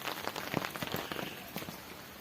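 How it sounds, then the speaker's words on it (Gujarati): Light rain patters softly on surfaces outdoors on a farm, a faint scattered ticking of drops. "આવો વરસાદ ચાલુ છે કાંઈ ધીમ ઉધારો છે પણ છે ખરો"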